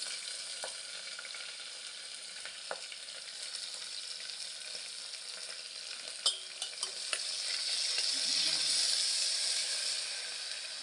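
Onion sautéing in a pan with mustard seeds, cumin, curry leaves, chili and garlic, a steady close hiss and sizzle with a few light clicks of stirring that swells slightly louder near the end, no voices.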